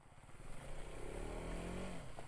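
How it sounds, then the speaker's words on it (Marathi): A motorcycle engine labours as it climbs a hill on a monsoon ride, a steady droning rumble with slowly shifting pitch, heard faintly and continuously without speech. "आता बाईक तर टाकली होती, आता वरती चढताना बघूया काय होतंय"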